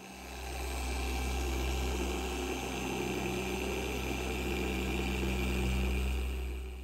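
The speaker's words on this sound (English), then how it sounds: "This is the speed I'm actually moving the polisher at" Steady electric hum of a car polisher working across a bonnet panel, a constant droning whir at moderate level that rises smoothly at the start and holds evenly to the end, with no voices.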